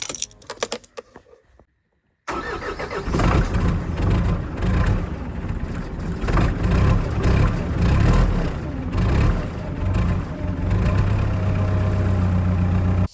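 A truck engine runs in a steady, loud, low drone that holds continuously after a short quiet stretch and a brief dropout at the start.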